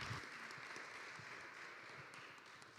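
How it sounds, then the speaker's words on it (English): Audience at a business forum clapping, a faint, distant, steady patter of many hands in a large room, sustained evenly throughout. "Let's clap hands for them."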